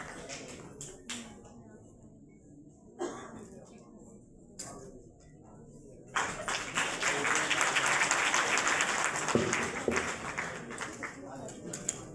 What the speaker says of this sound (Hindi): तालियां रुकनी नहीं चाहिए, बजाते रहो